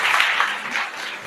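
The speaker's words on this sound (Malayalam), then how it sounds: "ഇവർക്ക് രണ്ടുപേർക്ക് ഒരു കൈയടി കൊടുക്കാന്ന് പറയാം" Brief burst of applause from an audience, a dense even patter of clapping held for about a second.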